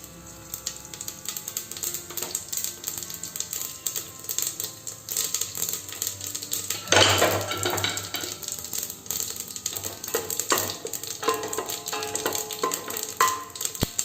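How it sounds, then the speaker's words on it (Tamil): Mustard seeds, fenugreek and cumin crackle in hot oil, a busy, continuous spattering of sharp pops and sizzles, with a louder burst of frying about halfway through. "இப்போ ஆயில் ஹீட் ஆனதும் கடுகும் வெந்தயம் போட்டுக்கலாம். கடுகு பொரிஞ்சதும் சீரகம் போட்டுடலாம்."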